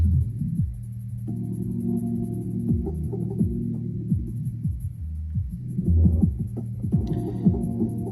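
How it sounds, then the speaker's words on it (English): A deep, throbbing bass line plays with a muffled, dark tone through a dub mixer's isolator low-pass filter, its upper edge slowly opening and closing as the filter sweeps. "If I raise it up, we can hear like a low pass filter effect, because this is actually a low pass."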